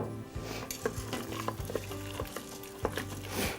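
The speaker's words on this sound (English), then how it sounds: "Give it a good stir." Food stirred in a pot of water before pressure cooking, with a spoon scraping and knocking against the metal in a quick, irregular rhythm, close and moderately loud.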